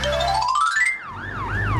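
A cartoon police car siren: a rising electronic tone climbs, then swings into a steady wailing up-and-down warble over light background music.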